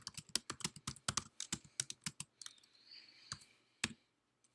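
Rapid bursts of keystrokes on a computer keyboard, close and crisp, with short pauses between runs of clicks and a brief lull before a final few taps.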